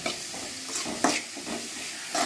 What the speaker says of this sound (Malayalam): ഇനി നമുക്കിത് വരട്ടിയെടുക്കണം.